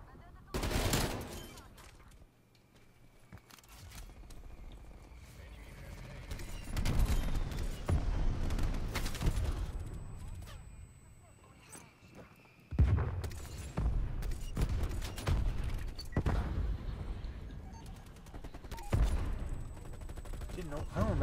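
An XM4 rifle fires in a video game: loud, rapid bursts of automatic gunfire come in repeated volleys separated by short pauses, with a few sharper booms among them.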